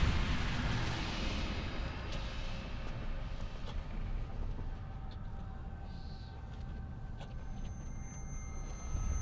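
Explosions in the zombie shooter Zombie Army 2 on its last level: a dense, continuous low rumble of blasts and booms that rolls on steadily throughout without clear pauses.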